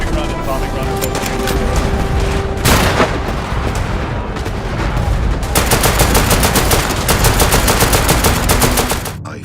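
In a WW2 video game, rapid machine-gun bursts and scattered gunshots crackle continuously with heavy booms underneath, a dense, loud battle din.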